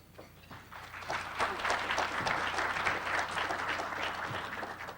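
An audience at a congressional district debate breaks into applause, the clapping swelling after a quiet start and holding steady, fairly distant, with a voice speaking faintly beneath it.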